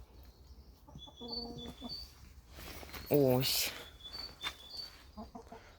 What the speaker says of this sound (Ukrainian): ось кури